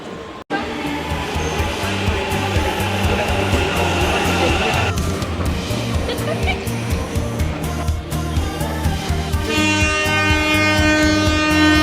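Steady rumble and rattle inside a moving passenger train bound for Gokarna from Bangalore, with a continuous loud drone throughout and faint background voices in the crowded carriage.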